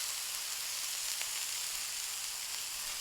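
Bacon cheese smash burger sizzling on a 28-inch Blackstone griddle, a steady, close hiss of frying fat that runs unbroken and evenly loud throughout, with no talking.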